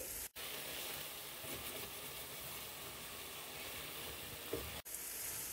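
Masala frying in a pot for Sindhi pulao gives a steady, fairly loud sizzle with faint stirring scrapes, continuous for several seconds with two brief dropouts.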